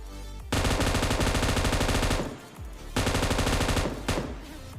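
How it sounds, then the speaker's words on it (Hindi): Gunfire from the mobile battle royale game Free Fire: two long, loud bursts of rapid automatic fire, each lasting about one and a half seconds, separated by a brief pause, with no speech. "तो मैं यहाँ पर फ्री फायर देता हूँ, लेकिन बंदा भाई जी कंटेनर्स के पीछे था।"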